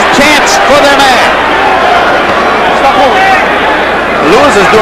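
Massed voices of a heavyweight boxing crowd chant and roar continuously for their fighter, loud and constant, with a commentator speaking over the din.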